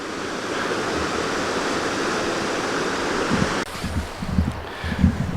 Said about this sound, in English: Really a pretty river.